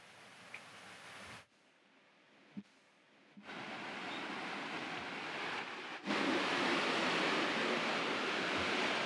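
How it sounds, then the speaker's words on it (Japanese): A small man-made waterfall at a pond where koi gather, in Ojiya, Niigata: steady rushing, splashing water that fills the scene, briefly dipping quieter before surging to a louder, fuller roar near the end. "水のあるところにこういう滝みたいなのがあると雰囲気がすごくいいんですよ"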